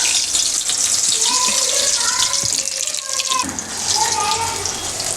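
Mushroom pieces dropped into hot oil for Tamil-style mushroom 65 give a loud, steady sizzle and crackle that runs the whole time without a break. Nobody speaks.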